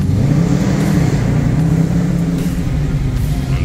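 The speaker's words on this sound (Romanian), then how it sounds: "așa că dăm puțin gazul, să vedem cum se aude" A car with a Hemi engine revs in an underground space, giving a loud, close, sustained roar that swells and eases slightly as the throttle is held. No one speaks over it.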